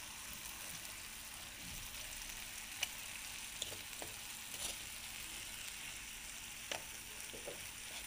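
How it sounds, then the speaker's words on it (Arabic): Turkey pieces frying with spices in a tagine, a steady soft sizzle with occasional faint clicks and pops, no voices. "كيتشحر لنا هذاك الحيمات مزيان مع هذوك التوابل"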